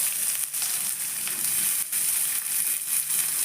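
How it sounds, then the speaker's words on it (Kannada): Chopped onions frying in a pan for masala rotti, a steady bright sizzle with faint crackles and occasional stirring scrapes, close and continuous. "ಇದು ಚೆನ್ನಾಗಿ ಫ್ರೈ ಮಾಡಬೇಕು."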